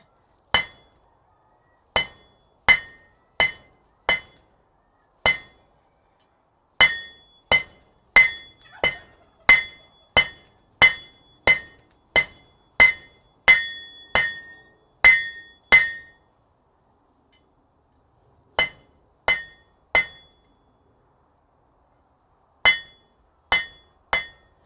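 A hammer strikes hot steel drawn out over an anvil horn, ringing metallic blows landing one at a time in a steady forging rhythm, close and clear, with a few pauses between runs of strikes.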